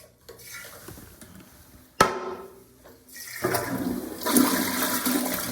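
A toilet flushes in a house bathroom with a ceramic tile floor: a sharp handle clunk, then a rising rush and swirl of water that grows louder and keeps draining to the end.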